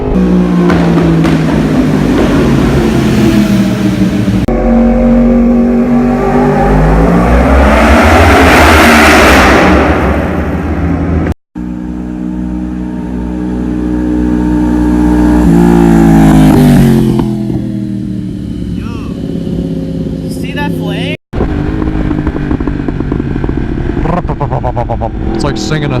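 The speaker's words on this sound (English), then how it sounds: "We found this really badass tunnel to do burbles through." A 193hp motorcycle cruising through a tunnel, its exhaust burbling and popping with rising revs and echoing loudly, broken by brief cuts, with people talking over it.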